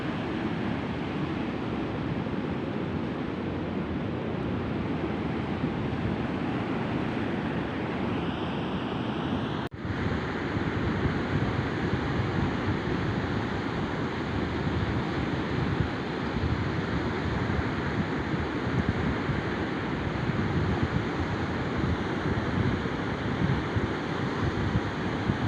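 Waves roll onto the shore of a sea used by fishermen, where swimming is forbidden. The surf makes a continuous broad roar mixed with wind noise, steady and unbroken, with no voices.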